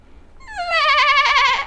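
A human voice imitates a goat bleating, one drawn-out wavering baa that rises and quavers, loud and close with no other sound.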